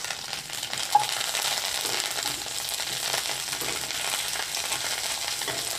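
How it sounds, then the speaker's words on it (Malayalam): Mustard seeds and curry leaves spluttering in hot oil for a curry gravy, a steady dense crackling sizzle close by, with a single sharp pop near the start. "ആ കടുക് ഒന്ന് പൊട്ടിക്കഴിയുന്ന സമയത്ത്"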